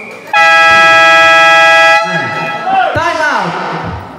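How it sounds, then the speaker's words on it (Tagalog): A loud, sustained buzzer horn sounds for about a second and a half at a basketball game, then cuts off as excited voices and crowd noise take over. "Bumusina lang ako."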